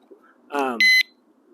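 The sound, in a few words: bike lock built-in motion alarm warning beep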